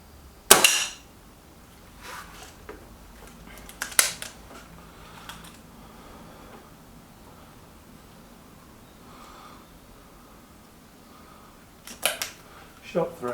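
A Stoeger XM1 .22 air rifle fires pellets, giving a few sharp, close cracks spaced several seconds apart with quiet pauses between shots.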